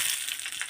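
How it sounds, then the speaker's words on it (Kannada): Raisins fry in hot ghee with a steady, bright sizzle. The crackling is brief, close and continuous, and no one speaks. "ಫ್ರೈ ಮಾಡೋಣ. ಸ್ವಲ್ಪ ಲೈಟ್ ಗೋಲ್ಡನ್ ಆಗಬೇಕಷ್ಟೇ."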